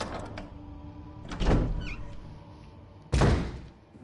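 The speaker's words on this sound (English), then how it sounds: "So, I'm thinking this door is the door I go through." A door opens in the Resident Evil PS4 game amid dim ambient hum, with a heavy thump, a creaking swing and a second loud, solid clunk near the end, close and clear without speech.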